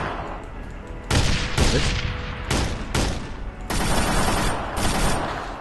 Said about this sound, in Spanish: esta es la ametralladora ligera, que es la que tiene ahí arriba